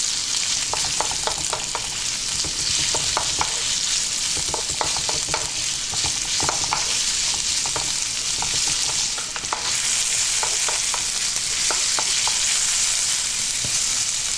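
A cup of white onion fries in a hot pan with a constant loud hiss of sizzling oil, close by, with scattered light clicks of stirring and no voices.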